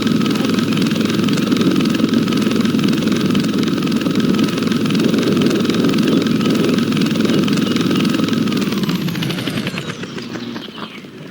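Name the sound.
Black Hawk helicopter hovering in a video game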